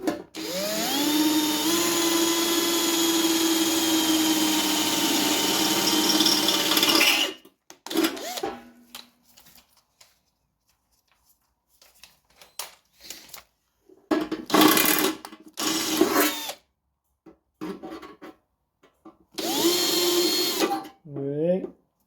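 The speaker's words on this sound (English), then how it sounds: "What I'll do is I'll go with a smaller drill bit" Power drill boring holes in the metal of a 1974 MK3 classic Mini battery box, a sustained whine for several seconds followed by shorter bursts, with someone talking in between.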